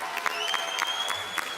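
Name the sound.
audience applause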